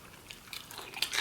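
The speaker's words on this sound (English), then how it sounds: "Let me taste the spicy sandwich." A bite into a crispy spicy chicken sandwich, with a few faint close crunches and chewing sounds over about a second.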